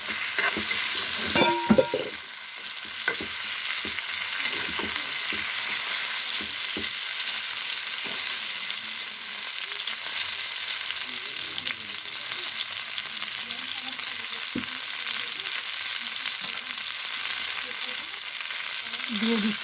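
Drumstick curry with green chilies frying in a pan, a steady loud sizzle throughout with occasional scraping stirs and clinks of the spoon.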